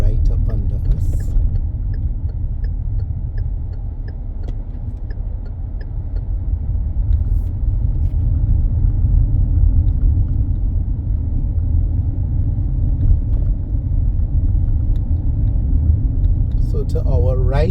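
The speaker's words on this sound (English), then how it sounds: "Just gonna let this vehicle pass because they're right up under us." A vehicle closes in behind a car on a rural road in the parish of St. Andrew, Barbados, heard as a continuous low engine and road rumble from inside the car, steady and close throughout.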